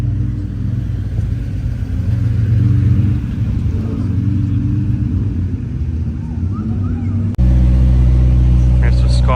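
A Pagani Zonda C12 Roadster's engine gives a deep, steady, close rumble that holds, then swells abruptly louder and fuller for the last couple of seconds.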